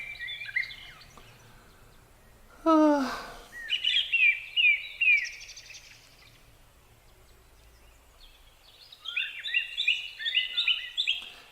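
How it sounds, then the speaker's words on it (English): Birds chirp and sing outdoors in several bursts of bright trilling and tweeting notes, with a quieter gap in the middle and a fresh flurry toward the end, clear over a low background hum. "Yeah. The birds."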